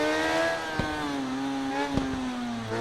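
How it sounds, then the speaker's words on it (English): Motorcycle engine from the racing game RIDE 3 holds a steady mid-pitched drone that sags slightly, broken by two sharp exhaust pops near the middle and end, close and fairly loud with no talk. "Nice pop in from the exhaust as well"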